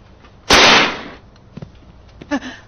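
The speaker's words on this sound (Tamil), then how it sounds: "இந்த வெடி வெடிக்கும் போது குதிச்சாரு" A firecracker lit behind a seated elderly man goes off in one loud, sharp burst lasting about half a second, followed by a few faint small pops and a brief voice.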